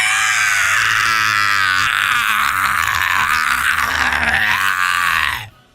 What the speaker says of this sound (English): Frieza starts screaming in pain.